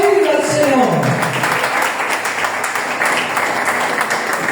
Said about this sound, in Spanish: Aplaudir al Señor.